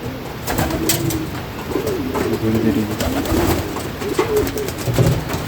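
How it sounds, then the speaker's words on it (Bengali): Sirazi pigeons coo repeatedly in soft, throaty rolling calls close by, overlapping one another against a steady background hum. "এখানে আমি দেখছিলাম সিরাজি কবুতর"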